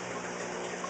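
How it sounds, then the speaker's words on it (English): Water poured onto an indoor floor near a fish aquarium setup, heard as a brief, steady gushing splash with a continuous hiss and no talking over it. "pouring water all over the floor"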